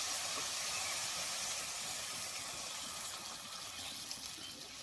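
Water poured into a pan of bottle gourd pieces, a steady broad hiss and sizzle that rises briefly and then eases off slightly, with no talk over it.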